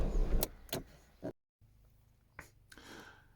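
The electric roof of an Audi 80/90 closes, with a faint motor hum beneath a few sharp clicks and knocks, ending in a short clunk, close by.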